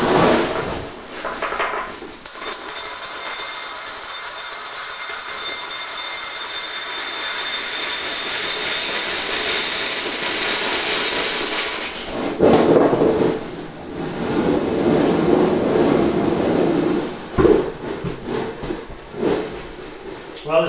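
A homemade Star Wars BB-8 droid robot driving on ball bearings, a loud sustained rolling rumble with high whining tones and rattling, shifting into uneven scraping and knocking bursts toward the end.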